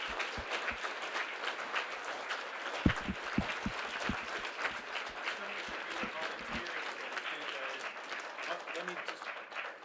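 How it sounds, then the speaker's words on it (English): An audience at a spring speech showcase applauds the speakers: sustained crowd clapping with a few sharper, closer claps standing out, holding at an even level for about ten seconds. "Please join me in giving one more round of applause to these amazing speakers"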